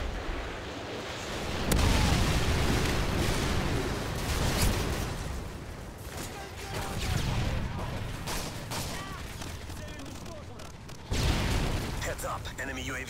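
A Predator missile blows up in Call of Duty: Modern Warfare 3, one of several heavy rumbling blasts amid sustained loud battlefield noise and gunfire, with a renewed burst near the end.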